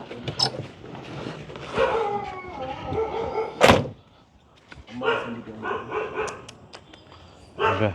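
A puppy at a family home barks in short bursts amid lively conversation, with one sharp loud yelp standing out near the middle over the talking voices.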